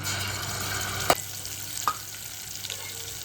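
Ground masala paste fries in hot oil, a soft, steady sizzle with a couple of sharp clicks from stirring, fairly quiet and with no talking.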